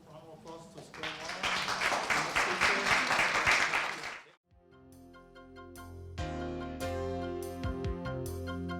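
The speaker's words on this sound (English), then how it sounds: "Please, let's give a round of applause to Scott" Audience applause at a civic ambassadors summit in Hartford Public Library, a dense, loud wash of clapping for about four seconds that stops abruptly and gives way to music.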